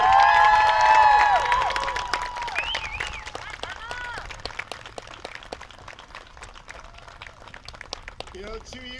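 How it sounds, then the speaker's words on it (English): Middle school audience applauding and cheering the cast of a Little Mermaid Jr. production, loud dense clapping with whoops and shouts that gradually fades, with some voices over it. "One more round of applause for our cast."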